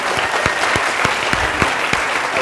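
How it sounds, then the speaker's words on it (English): Audience applauding at a Veritas Forum lecture to thank speaker Greg Gansel: steady, dense clapping from a sizable crowd, with a few sharper individual claps standing out, sustained throughout. "Let's give him a round of applause"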